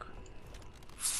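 A character eats in the video game Dead Island, giving soft, close chewing and crunching sounds over a brief moment, ending in a hiss.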